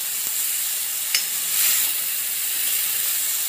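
Tomato paste and spice paste sauté in hot oil for a spicy egg curry, giving a steady, bright sizzle with one soft click partway through.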